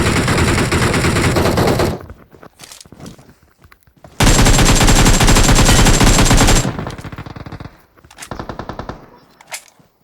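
Close, loud automatic gunfire in PUBG Mobile on the Livik map: a two-second burst, a pause with scattered shots, a second long sustained burst, then quieter, sporadic single shots trailing off.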